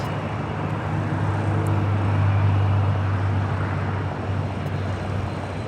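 Air Tahiti Nui Boeing 787 Dreamliner taxiing at LAX, a steady, loud jet-engine roar with a low droning hum that swells slightly midway and then holds.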